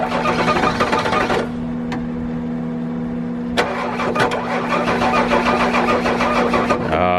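Engine of a 1997 Ford diesel truck cranking repeatedly and failing to catch, a loud close churning with a brief pause in the middle before it cranks again.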